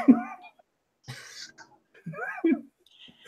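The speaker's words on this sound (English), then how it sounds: "I had to clear my throat there for a sec." A person clears their throat a couple of times, close and fairly loud, with short gaps of silence between the rough bursts.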